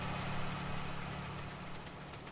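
A truck engine idles in Farming Simulator 19, a steady low rumble that holds throughout at an even, fairly close level.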